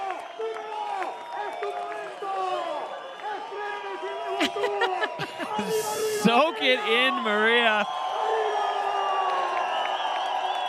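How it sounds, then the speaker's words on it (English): A crowd cheers and whoops at the finish of a freeride ski event at Baqueira Beret, loud and sustained throughout, with a commentator talking over it and a burst of shouting midway. "I mean, the crowd's going crazy right now"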